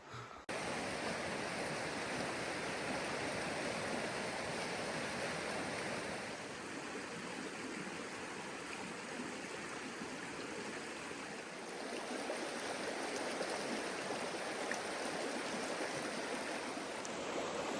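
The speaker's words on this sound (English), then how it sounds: "I don't know if you'll be able to hear this, but I've discovered that if you stand on the rocks in the sunshine down by the waterfall, it's so nice" A waterfall pours over rocks in steady, dense rushing white noise, close and unbroken throughout with only slight swells in intensity and no voices.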